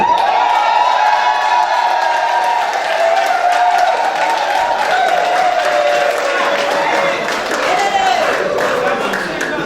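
Wedding audience applauding in a church hall during the ceremony, a steady wash of clapping and crowd noise over a sustained sung or toned drone that runs the whole length.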